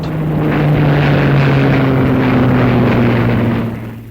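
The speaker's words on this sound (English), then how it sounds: "All day, relays of fighters went out from their south coast aerodromes." A loud, steady drone of fighter plane engines passes overhead, a continuous propeller hum that swells and holds.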